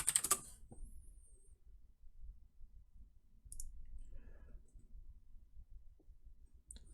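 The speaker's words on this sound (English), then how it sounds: "just type in SD formatter download" A computer keyboard gives a few faint, sparse key clicks in a quiet room, with a brief burst at the start and scattered taps after it.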